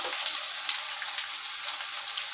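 Onions frying with cumin seeds in a hot pan, the base for a home-cooked chicken dish, giving a steady, close, continuous sizzle with fine crackling throughout.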